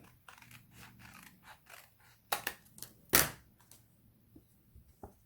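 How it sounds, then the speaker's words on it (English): Scissors snip along the edge of a stamped paper card at a craft table. A few quiet cuts come in short, uneven bursts, with one sharper snip near the middle. "cut along the edge of the back of the card"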